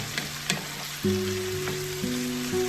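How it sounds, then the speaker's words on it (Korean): Steady sizzling of food frying in a pot, with a low sustained hum running underneath. "볶고 있는 냄비를 바라보며"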